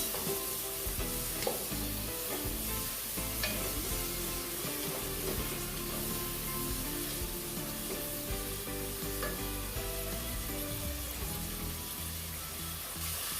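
Ingredients sizzle steadily in a pan while a Jamaican steamed callaloo and saltfish dish is being prepared, with occasional stirring and soft kitchen clatter, loud and close without pause.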